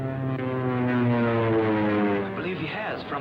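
A scout plane drones steadily over a ship at sea, a loud continuous engine hum with strong layered tones that shift slightly as it circles, heard alone without talk.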